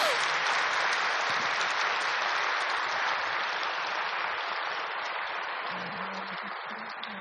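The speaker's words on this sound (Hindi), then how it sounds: "सभी जोर से तालियां बजाएंगे" An audience at a spiritual gathering in Madhuban claps loudly and steadily for about seven seconds, a dense, continuous wash of applause that tapers off only slightly toward the end, with a faint voice entering near the close.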